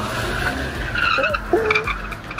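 Straight-piped BMW M3 E92 drifting on a roundabout, tires skidding and squealing continuously under a loud, raspy engine drone, with brief pitch sweeps as the car slides, close and steady throughout.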